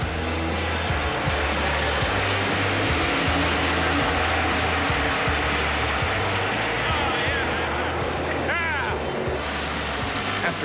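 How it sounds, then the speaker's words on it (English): NASCAR-style race cars idle and rumble together on pit road before pace laps, a loud, continuous low engine roar with revving pulses, crowd noise and voices mixed underneath. "As you can tell by the sounds of the cars, they're getting ready to go off pit road to run their pace laps"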